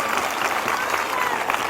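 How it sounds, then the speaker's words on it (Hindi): A congregation applauds inside a church during a prayer service, a dense steady patter of clapping from many hands throughout, fairly loud and without pause. "आपकी तालियों की आवाज़ इस चर्च से बाहर भी नहीं जा रही।"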